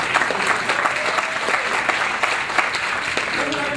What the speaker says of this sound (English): Clap your hands on third one.